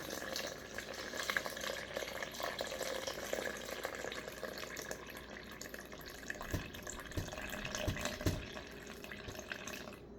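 Filtered water poured from a refrigerator pitcher into a bowl of sourdough starter, giving a steady splashing pour throughout with a few sharper drips and knocks near the end, fairly close.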